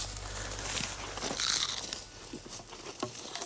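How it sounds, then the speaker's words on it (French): Crunchy potato chips being bitten and chewed by people walking through the woods on a moose hunt in Charlevoix, irregular close crisp crunches over faint rustling and a low background rumble. "C'est des chips à l'orignal."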